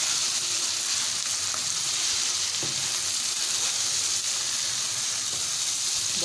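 Grated tomatoes and ground masala frying for beef achari, a dense, constant close sizzle with a few soft stirring scrapes and no talking.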